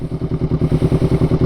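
Honda CBR500R idling through an aftermarket Leovince GP Corsa Evo exhaust, heard up close as a loud, regular, throbbing pulse with a slight mechanical clatter and no voices.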